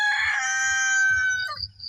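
A rooster crows loudly and close at a native chicken farm, one long drawn-out call, with soft low clucking from other chickens beneath and after it.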